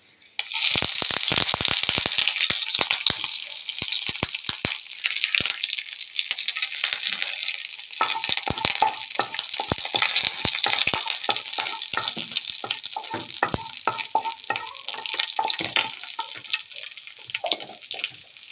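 Fenugreek seeds, dried red chillies and curry leaves sizzle and crackle in hot oil, a steady broadband hiss with frequent sharp pops throughout.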